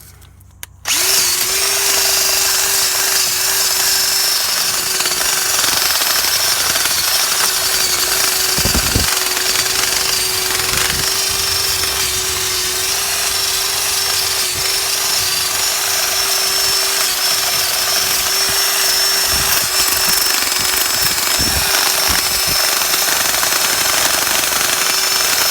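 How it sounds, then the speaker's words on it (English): A wire wheel on a power tool cleans front brake parts on a 2013 Renault Master 2.3 dCi, producing a loud, continuous, harsh grinding whine close by for the whole stretch, with only brief dips. "we'll just clean it up with a little wire wheel"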